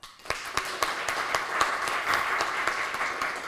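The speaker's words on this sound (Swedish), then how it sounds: "Vi ger eh, Kim en applåd." An audience claps for a prize winner at a city hall business awards lunch, with steady, fairly close applause that holds evenly throughout and carries sharp individual claps within the wash.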